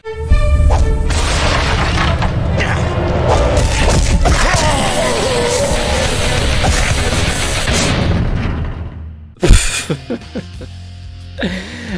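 Brawling in the 3D beat 'em up Urban Reign: loud, dense thumps, booms and crashing impacts pile up for about nine seconds, then a short pause before a few more hits.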